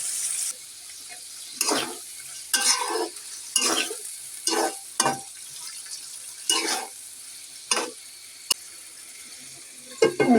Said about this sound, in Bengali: আমি একটু নাড়া দিয়ে পরে দেখাইতেছি আপনাদের